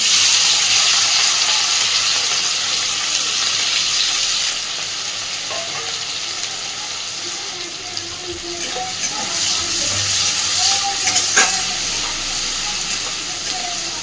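Chopped onion and green chili hit hot butter with crushed garlic, setting off a steady, loud sizzle and hiss of frying that runs throughout, with faint stirring clinks and brief sounds of movement near the pan.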